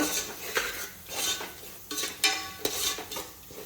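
Pulao ingredients (fresh pigeon peas and vegetables) are stirred in oil in a pan, with a metal spoon scraping and clinking against it in several close, uneven strokes and only a faint sizzle.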